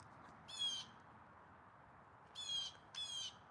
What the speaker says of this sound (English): Oh, there he is. I spot him. It's a blue jay.